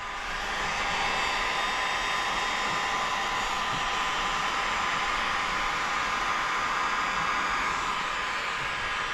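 Heat gun running at about 750 degrees to heat-seal paint protection film on a 2025 Kia K5 door, a steady loud close blowing roar with no pauses or talk.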